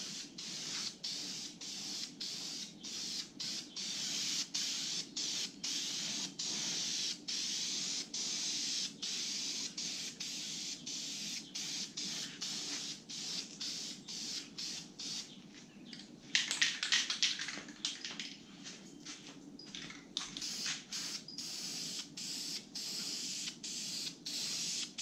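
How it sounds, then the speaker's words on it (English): Red spray paint hisses from an aerosol can onto a metal sign in a long run of short bursts with brief pauses, fairly close and steady, with a brief louder scuffle midway. "spray a little red on it and see what happens"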